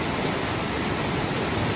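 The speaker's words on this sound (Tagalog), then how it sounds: "taas ng tubig dito sa ilog" Rising river water rushes steadily during a typhoon flood, a loud, continuous broadband roar fed from an upstream waterfall, with no pauses or talk.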